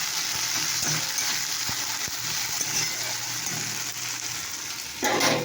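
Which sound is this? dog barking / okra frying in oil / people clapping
okra frying in oil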